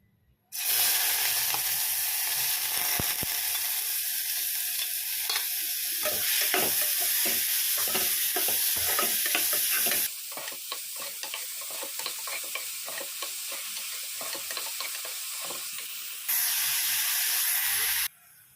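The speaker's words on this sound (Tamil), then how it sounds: "தேங்காய் எண்ணெய் கொஞ்சம், நம்ம 2 பெருக்கி வெங்காயம் கட் பண்ணி வச்சுருந்தோம் இல்லையா, அது நம்ம இப்போ இதில் சேர்த்துக்கலாம்." Chopped onions hit hot coconut oil in a pan and fry with a loud, steady sizzle and hiss, broken by occasional stirring scrapes; the sizzle drops briefly partway through and then returns at full strength.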